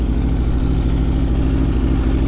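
Aprilia 1100 Factory motorcycle with a full titanium Akrapovic exhaust and new tune, idling loud and close with a deep, steady, throbbing rumble and no voices.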